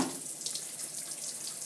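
A tap runs steadily into a sink, a soft, even hiss of falling water with no voices over it.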